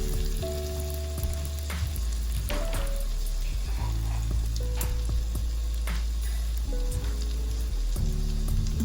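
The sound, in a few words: garlic paste sizzling in hot oil in an Instant Pot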